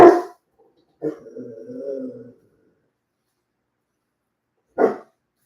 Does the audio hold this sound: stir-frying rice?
no